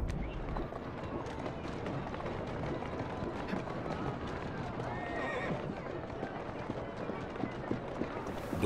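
A horse whinnies and gallops with steady clip-clop hoofbeats in Assassin's Creed Syndicate, set in a Victorian London street. The loud, continuous hoof rhythm dominates, with a voice speaking over it.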